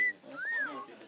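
A pet bird whistles a rising and falling tone, close by, with soft murmured background sounds.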